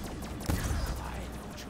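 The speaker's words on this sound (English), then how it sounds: "Going at it with the ray gun again" A ray gun fires in Black Ops 3 Zombies on the Giant map, a short burst with one loud zap near the middle over a busy game background.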